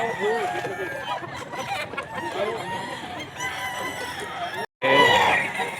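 Rooster crowing at a Bocaue tiangge market, loud and close, with repeated crows and clucks among other fowl over busy market chatter, a brief dropout near the end, then another strong burst.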